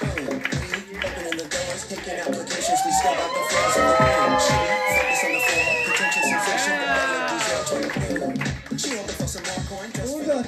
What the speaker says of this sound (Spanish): Quiero un fuerte aplauso para el guapísimo Luis Celi.